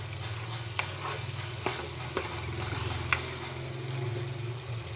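Mutton and cauliflower curry sizzles and fries steadily in oil over high heat, with a continuous crackling hiss broken by a few sharp clinks and scrapes of a stirring spoon against the pan.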